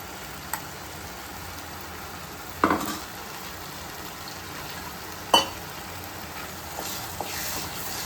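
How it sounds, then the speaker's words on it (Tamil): Ground coconut paste for a Kerala-style egg curry sautéing in a pan: a soft continuous sizzle with occasional spoon scrapes and two sharper knocks against the pan, nearby and steady. "நல்லா வதக்கிக்கோங்க"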